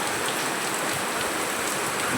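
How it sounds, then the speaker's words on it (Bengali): Heavy, dense rainfall pouring down steadily, a continuous close hiss of drops striking surfaces with no voices and no thunder. "আজকে বৃষ্টি কী হচ্ছে শুধু দেখো অজস্র প্রবল বৃষ্টি"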